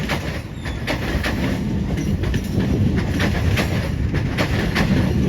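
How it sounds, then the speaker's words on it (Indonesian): Ciremai passenger train rolling past at close range, a loud continuous rumble with a rhythmic train of wheel clicks over rail joints, steady throughout with no voices. "Kereta api Ciremai."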